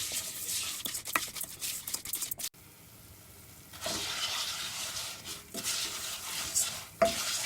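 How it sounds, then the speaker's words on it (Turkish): Vermicelli roasting with salt in a pan, stirred now and then: steady scraping and sizzling with sharp spoon scrapes, a brief quiet gap partway, then continued stirring and frying hiss. "ara sıra karıştırarak kavurmayı devam ettiriyorum. Kavrulurken şehriyeme tuz ilavesi yapıyorum."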